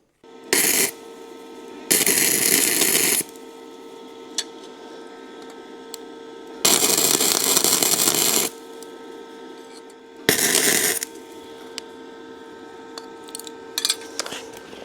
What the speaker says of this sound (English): But first, we'll weld it.